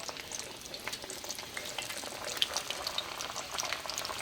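Hot grease fries fish fillets with a dense, even sizzle and bursts of popping and bubbling. The sound holds steady at moderate volume throughout, and nobody speaks.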